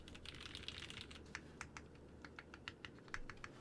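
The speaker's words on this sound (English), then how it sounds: "Typing sounds?" Quiet, close clicks of typing on a computer keyboard, irregular keystrokes tapping out in quick bursts over a low background hiss.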